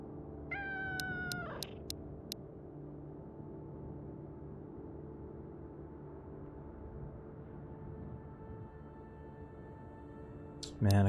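In the survival game Road to Vostok, a cat lets out a short meow near the start, followed by a long stretch of quiet ambient hum with faint background tones and a brief louder sound at the very end.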